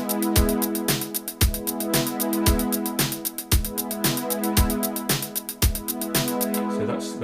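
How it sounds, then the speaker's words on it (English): A one-bar instrumental break from a cover song, with sustained strings over a steady, punchy drum beat, loud and clear with no vocals. "you're hearing just the strings and the drums"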